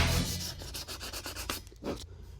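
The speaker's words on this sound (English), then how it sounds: "I'm using a die grinder and a coarse resurfacing disc to finish things up." Coarse abrasive rubbing of a die grinder fitted with a coarse resurfacing disc working an aluminum wheel, a close, rough, pulsing scrape that varies in strength and fades out near the end.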